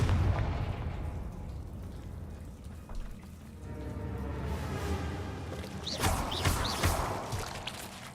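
A Confringo fire spell bursting in Hogwarts Legacy, a rumbling explosive roar with crackling debris that swells and spreads, followed by a brighter second burst of crackle around the middle to end.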